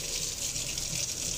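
Water gushes steadily down a freshly unclogged sink drain, a loud continuous rushing flow with no breaks.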